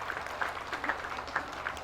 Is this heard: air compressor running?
no